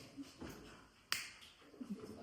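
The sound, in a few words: finger snap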